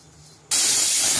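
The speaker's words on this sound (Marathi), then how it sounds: "बघा तिकडे आपल्या कुकरची शिट्टी पण झालेली आहे।" A kitchen pressure cooker cooking misal lets out its whistle, a sudden loud burst of hissing steam that cuts in after a quiet moment and holds at full strength to the end.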